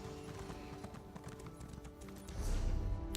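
Horse hooves clip-clop in a steady rhythm of hollow taps in The Elder Scrolls Online, moderately near with faint background ambience and a louder rumble toward the end.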